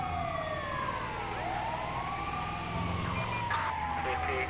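A video game ambulance siren in GTA 5 wails, rising and falling over steady traffic rumble, with several overlapping sweeping tones and a brief clatter near the end.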